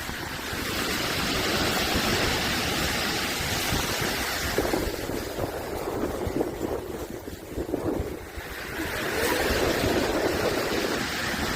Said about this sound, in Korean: 파도가 이렇게 아름다울 줄이야